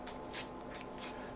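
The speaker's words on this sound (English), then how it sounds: "So you start an overhand shuffle as normal," Playing cards riffling through an overhand shuffle at a card table, a few soft papery bursts of cards being pulled off the deck, close and quiet with no talking.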